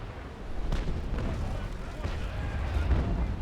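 Ship cannons fire in the Naval Action Legends naval battle game, heavy booms and rumbling blasts rolling under a low constant roar, with a person talking over the gunfire.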